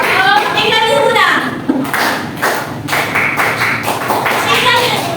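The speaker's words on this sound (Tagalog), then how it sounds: "Pakinggan niyo muna yung palakpak." In a classroom teaching demonstration, a teacher shows a single sharp clap, heard as several loud close thumps and taps among children's voices and talk.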